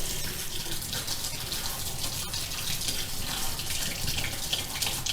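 Cold tap water runs steadily into a bowl in a home kitchen while cauliflower florets are prepared for aloo gobi matar, making a constant gentle splashing hiss with no talk.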